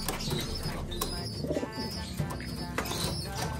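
Pigeons in a pigeon loft give soft low coos amid light chirps and a brief rustle of wings, close and fairly continuous over a short stretch.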